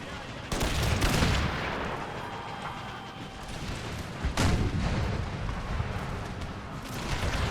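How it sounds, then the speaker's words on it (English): Cannons fire canister shot in the Empire Total War strategy game, with heavy booming blasts near the start and again midway over a continuous rumble of battlefield gunfire and crackle. "their cannon is firing canister at us."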